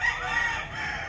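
Hatch breed gamefowl hens and roosters at a game farm give a short crow-like call over a busy farmyard hum, close and fairly loud, no talk.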